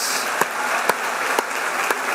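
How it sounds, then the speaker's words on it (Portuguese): A church congregation applauds in a steady, dense wash of clapping, with a few sharper claps standing out at roughly regular intervals. "Vamos aplaudir o Rei dos Reis."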